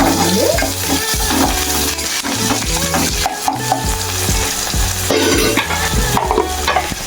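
A spatula stirs green chillies into ridge gourd curry in a frying pan, giving repeated scraping strokes over a continuous oily sizzle, close and fairly loud, with no voices.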